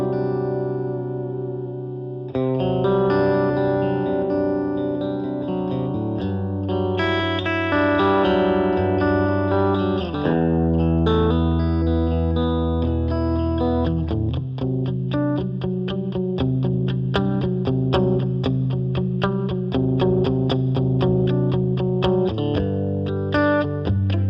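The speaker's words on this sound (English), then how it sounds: "Middle position, this is a really unique position to this guitar because it's kind of an out of phase sound" Electric guitar on its middle pickup setting with an out-of-phase tone, played through a Bad Cat Mod Shop Cub 15 amp with effects, ringing chords and single notes with reverb and echo, loud and continuous with no talking.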